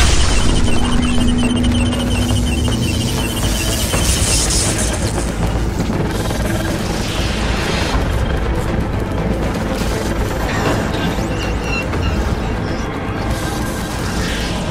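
A bomb goes off in a dramatic sci-fi scene, heard as a sustained, heavy roaring blast of dense rumble and crashing noise that fills the whole stretch loudly, without any speech.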